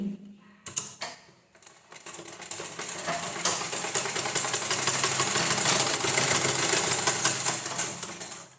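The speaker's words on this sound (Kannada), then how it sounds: "ಇವಾಗ ನಾನು ಇದನ್ನು ಸ್ಟಿಚ್ ಮಾಡ್ತೀನಿ." Sewing machine running steadily as it stitches blouse fabric, a loud continuous mechanical whir with a rapid rhythmic needle chatter, starting after a few brief clicks and holding through to the end.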